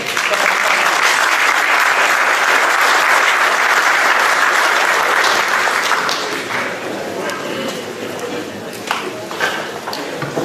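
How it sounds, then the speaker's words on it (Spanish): An audience claps loudly and steadily for several seconds at a university lecture, then the applause thins out and fades. "Le recibimos con un aplauso al doctor Enrique."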